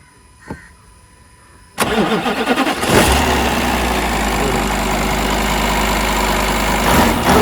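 A Volkswagen car engine cranks briefly then catches, settling into a steady, loud idle close by with a slight rise in revs near the end; no talk over it.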